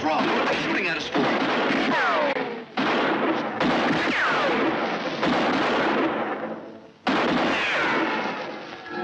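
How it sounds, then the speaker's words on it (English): Repeated loud gunfire bursts and blasts in a 1958 science fiction film, several heavy shots with whistling ricochets and echoing decays, separated by brief gaps, with no voices over them. "What are they shooting at us for?"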